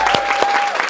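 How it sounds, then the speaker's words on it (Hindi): Brief burst of crowd applause among first-time voters during live election-results coverage, a loud continuous clatter of many hands with a couple of sharper claps standing out. "ये तालियां मेरे लिए नहीं थी, ये तालियां इन सबके लिए थी जिन्होंने वोट किया है"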